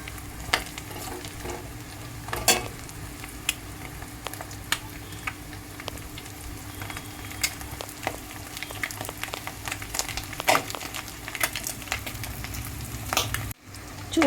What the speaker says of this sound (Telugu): చూడండి, గుడ్లు ఇలా తిప్పుకుంటూ వేయించుకోవాలి